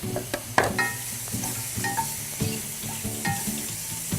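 Mushrooms sizzle in a buttered frying pan while a utensil stirs them in repeated scraping strokes, the frying hiss steady and close throughout.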